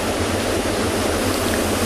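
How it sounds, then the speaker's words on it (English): A river waterfall tumbling over rocks on a Tanzanian safari, heard as a loud, dense, steady roar of rushing water with a deep low rumble, continuous and alone. "you can hear the waterfalls of this river rolling down from the rocks"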